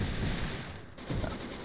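Rapid minigun fire in Fallout 3, a dense continuous burst of gunfire that stays loud throughout, with a brief dip before the shooting picks up again.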